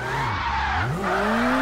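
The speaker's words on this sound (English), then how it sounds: "I'm driving a S14." Nissan S14 drifting in CarX Drift Racing 2 on a touge road, a loud, continuous tire squeal with the engine note rising and falling under it.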